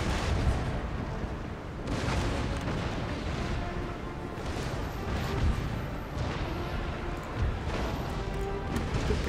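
Naval cannon broadside fire in Empire Total War: repeated heavy booming shots and crashes rolling in a loud, steady barrage, with no talk over it.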